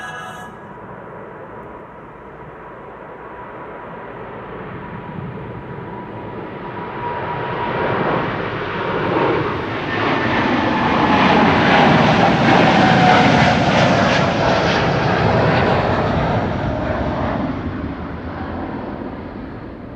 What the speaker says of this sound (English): This is KLM Flight 565 going to Nairobi in Kenya, which is in